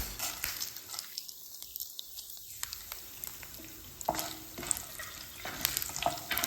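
Urad dal and fenugreek seeds fry in hot oil with asafoetida for sambar, a soft steady sizzle with crackling pops, briefly muted near the start and then resuming.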